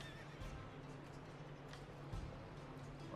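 A faint horse whinny in the video game Manor Lords with soft hoof clip-clops underneath, quiet and slightly distant over a low steady hum.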